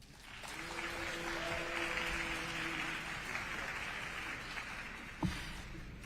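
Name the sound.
audience clapping at congressional hearing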